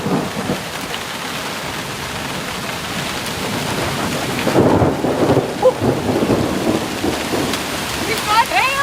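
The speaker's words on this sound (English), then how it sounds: "This is one of those angry thunderstorms you don't mess around with." Angry thunderstorm over a wilderness canoe campsite in Quetico Provincial Park, with steady rain drumming on a surface and rumbling thunder swelling midway, a close, loud, continuous wash of rain throughout.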